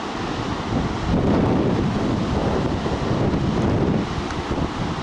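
Strong wind roars over a beach near Dunedin, New Zealand, with surf washing in the background, steady and loud throughout with buffeting on the microphone.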